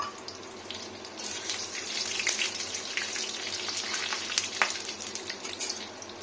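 Lentil dumplings (dal bori) frying in oil with five-spice seeds, a steady close hiss and crackle with scattered pops and no voices.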